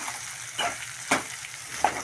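Spiny gourd slices frying in a pan with chili powder get stirred, giving a soft, low sizzle broken by a few brief scraping strokes of a spoon, close and fairly quiet, with no talking.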